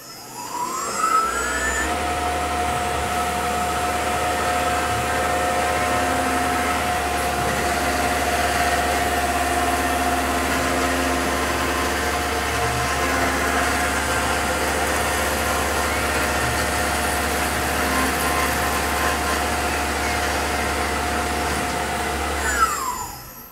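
Tormach PCNC 1100 CNC mill machining a large aluminum plate, a steady loud mechanical drone with a constant hum and a thin high whine that holds without break for over twenty seconds, no voices.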